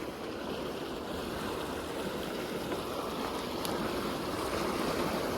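Strong current of a large canal in Thailand, a steady broadband rush of flowing water that stays dense and unbroken throughout, with no voices.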